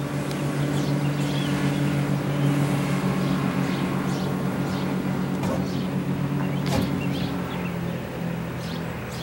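Four-stroke outboard engines idling on a 2003 Grady White 282 Sailfish boat, a steady low droning hum with a constant tone, heard close and continuous with faint bird chirps above it.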